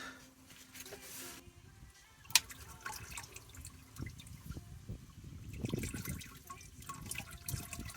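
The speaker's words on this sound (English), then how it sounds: "Once you start loosening, this fluid starts coming out." Automatic transmission fluid drains from the filter sump area of a Mitsubishi Montero, a faint continuous trickle and spatter with one sharp metallic tick near the start.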